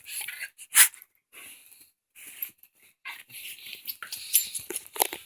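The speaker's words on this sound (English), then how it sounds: "My dog's excited I'm home." A dog whimpers and snuffles in short excited bursts, with squeaky whines and breathy sniffs close to the listener.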